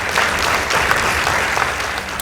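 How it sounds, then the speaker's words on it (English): Audience applause at a high school debate competition, a steady, dense round of clapping from a hall full of people, loud and continuous for the whole short stretch. "Let's give them a round of applause."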